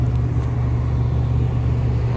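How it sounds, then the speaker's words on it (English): A loud tuned Mitsubishi Evo X idles with a deep, steady engine rumble heard close up, unchanging and alone for the whole short stretch. "My car is so freaking loud."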